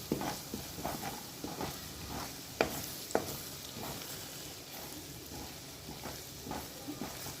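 Paneer burji frying in a pan, a steady low sizzle running throughout with occasional soft clinks and stirring scrapes, close up and moderately quiet, no talking.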